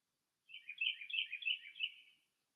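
Birdsong from a film soundtrack during a hushed scene of a floating feather: a lively string of high chirps and trills, close and steady, lasting about a second and a half before fading out into silence.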